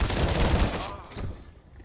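CZ pistol fire in a competitive first-person shooter match: a rapid, loud burst of overlapping shots that cuts off after about a second, leaving a faint ring and low ambient game noise.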